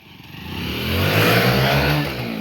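Two motorcycles, an HF Deluxe and a TVS, accelerating hard in a race, a loud close engine roar rising steadily in pitch as they rev up and pull away, with no voices.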